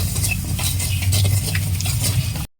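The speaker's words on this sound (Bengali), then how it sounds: "সুজিটা কড়াইতে দিয়ে সবসময় এরকম নাড়তে হবে, নাহলে পুড়ে যাবে।" Semolina dry-roasting in a wok is stirred constantly, a close scraping and rustling of spoon against pan with light crackle, ending abruptly.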